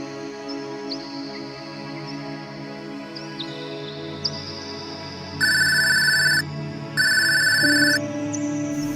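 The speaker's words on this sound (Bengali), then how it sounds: "এই সময় আবার কে ফোন দিল?" A mobile phone gives two electronic ringtone bursts, each about a second long, in a cartoon scene over a quiet background of chirps and soft music.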